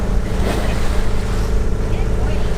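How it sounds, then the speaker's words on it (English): A sailboat motor sailing in light wind with main and head sail up, its engine running as a steady low drone mixed with water wash and wind rush, close and continuous. "So we're motor sailing right now because there's only about 8 knots of wind."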